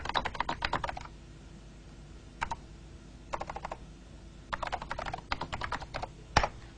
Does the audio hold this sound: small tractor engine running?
no